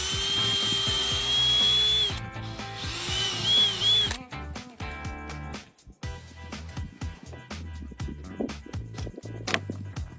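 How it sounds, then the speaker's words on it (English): A power drill whines steadily as it bores into a walnut tree, its pitch wavering under load, then stops, followed by scattered clicks and handling noises close by. "we're just going to drill right into the wood."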